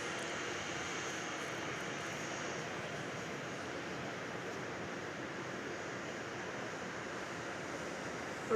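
An airliner in oneworld livery passes at Melbourne Airport, its engines giving a faint, steady distant roar with a windy wash and no voices.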